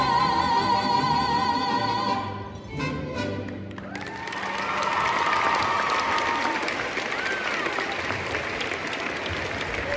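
A crowd at a school pep rally bursts into loud applause and cheering after some music fades, clapping swelling and holding steady to the end.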